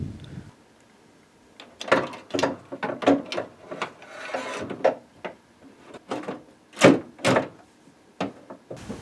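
A wrench tightens a nut onto a homemade window regulator bracket in a BMW Z3 door, crushing bent metal of the old spot-welded mount, giving repeated close ratcheting clicks and grinding scrapes in uneven bursts.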